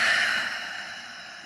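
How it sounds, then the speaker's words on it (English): A person takes one big breath, a single long exhale that starts strong and gradually fades away, close to the microphone. "big inhale and exhale"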